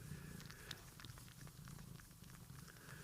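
A cat purrs steadily and close up, a continuous low rumbling hum with no voices over it.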